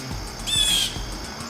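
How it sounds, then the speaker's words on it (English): A blue jay gives a short, harsh call once in a garden. It sounds fairly faint and distant over a quiet outdoor background. "what you're hearing is that blue jay making all that noise."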